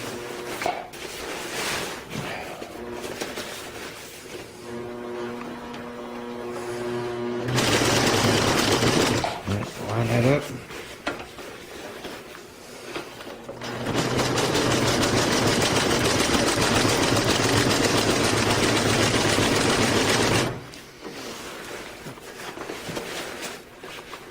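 A sewing machine stitches tarp material for a DIY stealth camping shelter in two long loud whirring runs, separated by pauses for turning the material, with handling clatter around them.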